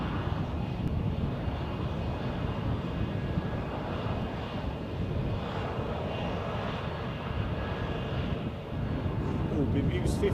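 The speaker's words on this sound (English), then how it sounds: "I'm not entirely sure where this aircraft is going." A continuous, loud roar from a fixed-wing aircraft engine at Edinburgh Airport, with a plane holding short on the taxiway. The engine noise sounds near and steady, with a broadband rumble and wind-like hiss throughout.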